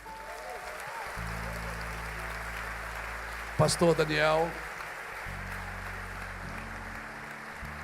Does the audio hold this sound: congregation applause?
yes